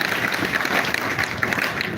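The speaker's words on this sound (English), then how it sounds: "That hand clap for them." Crowd clapping for party school-of-leadership facilitators at an outdoor political speech, a steady wash of many hands throughout.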